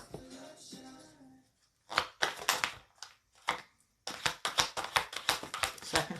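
A soft rustle gives way to quick bursts of crisp flicking, like a deck of cards being riffled, repeated in rapid clusters.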